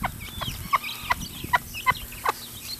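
A hen clucks among her baby chicks, with several short clucks in an uneven rhythm mixed with high, thin chick peeps, close by over soft scratching and low background noise.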